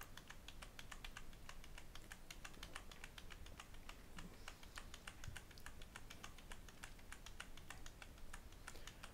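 Steady, rapid typing on a computer keyboard, with many quick key clicks in an even run, close and fairly quiet, with no talking.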